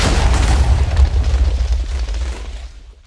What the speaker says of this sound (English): we got the explosion out of the way for now